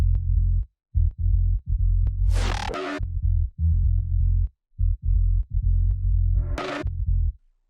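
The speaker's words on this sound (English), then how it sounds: "those overlapping frequencies with the low end of the bass" Deep synth bass low end in a music mix, thick sustained notes pulsing in phrases with brief gaps, joined twice by a short bright, noisy burst on top.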